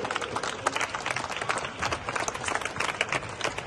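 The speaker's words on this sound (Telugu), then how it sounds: "మీరు ఈ రోజు చప్పట్లు కొట్టాలి" Children at a martial arts championship event applaud the masters, a dense, continuous patter of many hands clapping at once, steady and fairly loud for the whole stretch.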